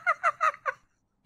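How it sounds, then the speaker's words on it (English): Four quick, nasal squawks in a rapid even rhythm, like a small rubber chicken, close and fairly loud, then silence and a faint trailing sound. "Sounds like a small rubber chicken."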